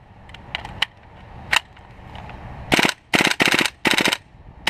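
A rifle with an RA Tech forged receiver firing during a torture test: a few scattered single shots, then several loud, rapid bursts of automatic fire close by with short gaps between them.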